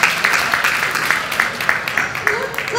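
Panel audience clapping at an event with Supervisor Otto Lee and Congresswoman Anna Eshoo, a steady patter of many hands sustained throughout, moderately loud in a room.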